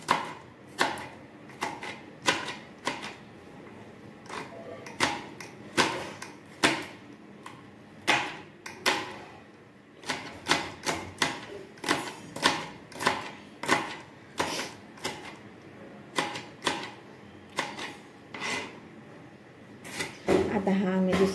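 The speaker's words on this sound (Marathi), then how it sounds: "आता हा मी दुसरा कांदा घेतला चॉप करायला, बघू शकता तुम्ही." A knife chopping onion on a board during cooking for paneer masala, with steady, closely spaced sharp knocks that run in quick bursts throughout, close and fairly loud.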